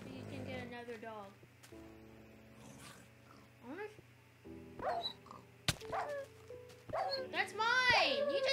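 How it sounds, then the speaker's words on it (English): A dog in the Minecraft video game yelps and whines amid game sound effects, with children talking excitedly over the action throughout. "You just killed my dog!"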